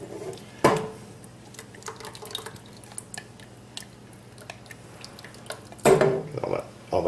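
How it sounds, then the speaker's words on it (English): Heavy whipping cream goes into a pot of keto cream of celery soup and is stirred, with soft liquid sounds, faint drips and two louder clanks of a utensil against the pot. "Now I'm going to add my 2 cups of heavy whipping cream. I'm just going to stir that in."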